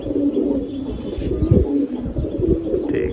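Large Rampuri pigeons cooing in a loft, low throaty coos repeating steadily and close by, with no voices over them.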